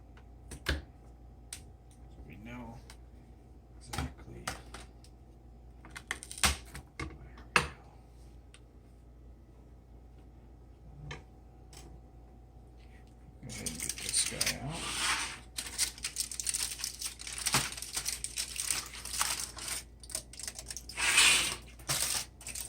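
A knife slices through a slab of homemade chocolate bark made as a holiday gift, giving a run of crisp clicks and snaps that build into denser crackling cuts near the end, close and clear over a quiet room.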